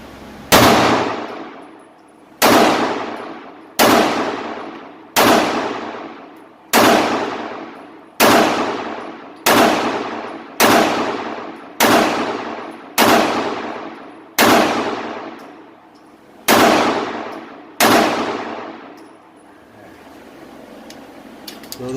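A Taurus TH9C pistol fires about a dozen shots at steel targets, each a loud sharp crack with a ringing clang that decays before the next, spaced about one to two seconds apart and heard alone.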